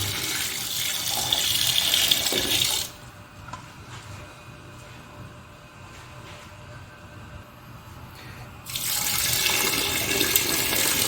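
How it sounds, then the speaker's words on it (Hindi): Water poured into a pot of mutton karahi with salt, a steady broadband rush in two loud bursts at the start and end, with a quieter stretch between. "इसमें साथ में डालेंगे पानी। इसमें जाएगा जी हमारा पानी।"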